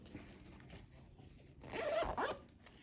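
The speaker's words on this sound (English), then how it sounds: "Let me zip it up." A zipper on a fabric sling bag is pulled closed in one quick, close, rasping run near the end, after softer handling sounds.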